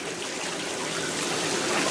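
Water from a pond fountain splashes down in a steady, continuous stream, close and fairly loud, with no voices.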